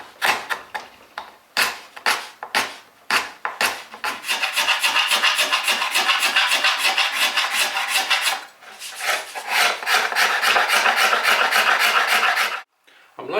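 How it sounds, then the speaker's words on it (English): A card scraper or sandpaper smooths a wooden table part, starting as separate rasping strokes, then running into fast, continuous close scraping, with a short pause before it ends. "you can pare away most of it with a chisel, then move on to either a card scraper"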